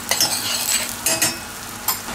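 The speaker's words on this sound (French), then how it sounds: "Je vais suer les oignons." Onions sweat in melted butter in a pan, giving a soft continuous sizzle broken by a few light scrapes and clinks as they are stirred.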